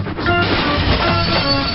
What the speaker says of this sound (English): The big train is going very fast.